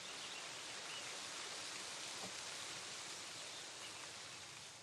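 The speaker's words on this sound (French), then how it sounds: "On arrive aux abords de la cascade, là, c'est vraiment magnifique avec cette lumière-là." Waterfall on the Aubrac plateau, where plateau water pours over old lava fissures, giving a steady, loud broadband roar of falling water that holds unbroken and close throughout.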